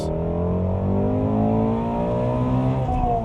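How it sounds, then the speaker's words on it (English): Ford Mustang GT350 V8 engine revs hard and continuously nearby, a loud, rich exhaust note sweeping steadily upward in pitch with no pause. "Still revving."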